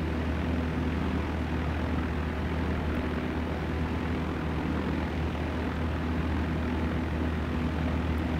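A steady, loud propeller airplane engine drones without a break in Flight Sim World over the Grand Canyon, a constant low rumble with no voices on top.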